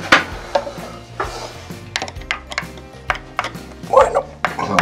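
Screws being undone and the cover taken off a motorized roller shutter box: scattered metallic clicks, scrapes and clatters in an irregular rhythm, loud and close, with no voices.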